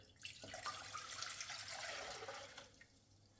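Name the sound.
water pouring into pot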